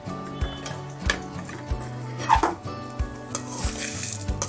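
Golden-roasted spices for a sundakkai vatha kulambu scraped and tipped from a pan into another vessel, giving a run of close scraping and clinking knocks of metal utensils against cookware, with a steady faint hum underneath.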